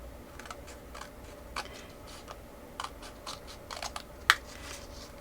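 A craft blade cuts along a pencil line in paper for a star book window, giving soft scattered ticks and scrapes spaced a second or so apart, with one sharper snap near the end.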